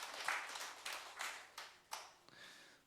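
A church congregation applauds during a 2019 Christmas service in Seoul, short bursts of clapping that swell and fade several times before trailing off, fairly quiet and without talk.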